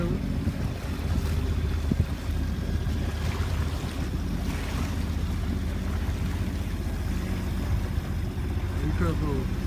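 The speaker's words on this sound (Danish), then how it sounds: "Vi kører på motor lige foran af." A Kings Cruiser 33 sailboat motoring under engine on open sea, a steady low engine rumble blended with wind buffeting the microphone and water rushing past the hull, continuous and fairly loud.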